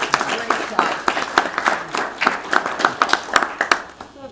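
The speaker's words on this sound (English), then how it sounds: "Let's give them a round of applause for" Applause from the attendees at a city commission workshop in a meeting room: a smattering of distinct individual claps that keeps going at a moderate level for several seconds, with voices faintly underneath.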